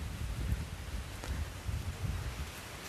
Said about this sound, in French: Ah, le vent se lève ici.